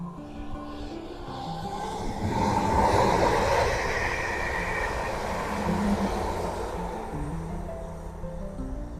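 A train rumbles past, rising to a broad roar midway and then slowly fading, steady and fairly close, with no voices.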